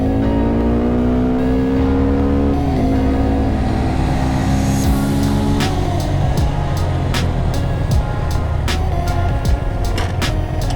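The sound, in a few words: motorcycle engine accelerating during a speed test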